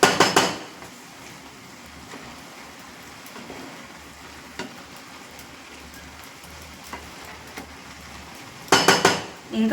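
A utensil scrapes and clatters in a cooking pot while amaranth leaves and liver are mixed, with a soft sizzle underneath and louder bursts of metal clinks at the start and end.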